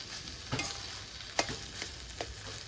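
Sugar, nigella seeds and cumin paste fry in a pan with a continuous crackling sizzle, broken by a few loud stirring scrapes and clanks.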